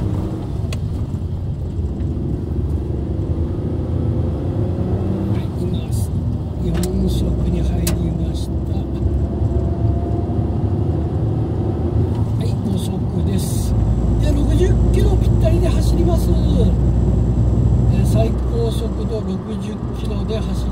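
A car with a K6A engine cruises in the middle lane of a highway at about 60 km/h during break-in driving, giving a steady loud engine and road drone throughout with brief louder swells and someone talking over it.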